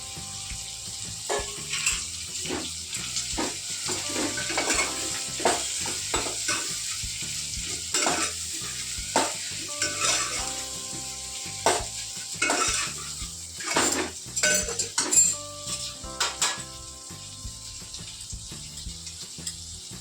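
Chopped okra sizzles steadily in a pan with repeated scraping and clinking of a utensil against the metal as it is stirred; close-up, continuous frying hiss, no voices.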